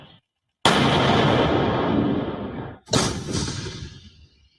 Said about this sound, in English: War-weary howitzers camouflage, but yet throwing quite a punch as Ukrainian troops target the Russian forces.